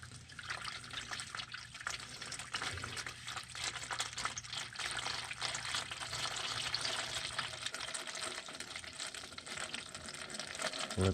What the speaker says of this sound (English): And so while the oil is draining underneath